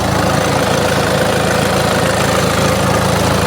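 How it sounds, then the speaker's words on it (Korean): The diesel engine of a Kia Sorento SUV with common-rail direct injection and 125,000 km idles steadily up close, a loud, even rumble with a fine rhythmic clatter throughout. "12만 5천 킬로인 엔진인데 엔진 떨림이 하나도 없습니다."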